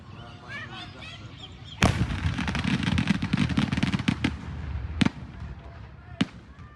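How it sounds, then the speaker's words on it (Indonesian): A loud blast as an unmanned hot air balloon loaded with firecrackers explodes in a village in Ponorogo, followed by a dense crackling barrage of firecracker pops and a few sharp separate bangs, with faint voices beforehand. "meledaknya sebuah balon udara tanpa awak berisi petasan"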